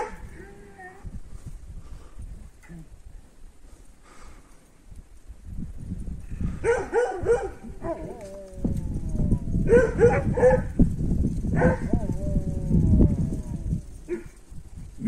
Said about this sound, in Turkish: Gelmiş o tarafa doğru da uluyor.